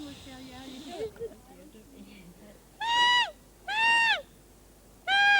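A parrot leaf blown as a whistle in West Auckland, New Zealand, gives three loud, clear, tonal hoots in a row after a brief stretch of soft voice and rustling.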